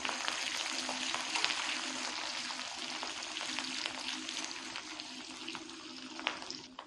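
Ginger and garlic fry in hot oil for a Kerala kanthari chilli pickle, giving a steady, close sizzle with faint stirring scrapes that holds evenly throughout, with no talking.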